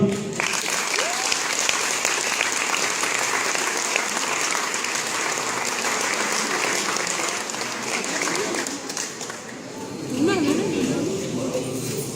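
Applause from an audience at a Pessac city awards evening for a young female French boxing champion, steady dense clapping that fills the room for most of the stretch, easing slightly near the end, with a voice talking underneath.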